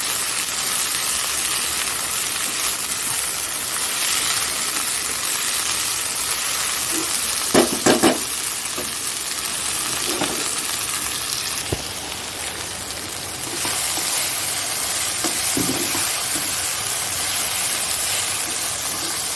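Potatoes and green chillies frying in a pan, giving a steady hiss and sizzle throughout, with a few clinks and knocks of utensils along the way.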